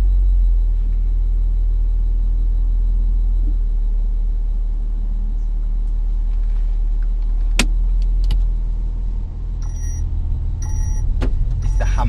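A petrol car with the handbrake on a little pulls away from a stop during a driving lesson, engine rumbling low and steady in the cabin, with small clicks and clunks of the controls toward the end.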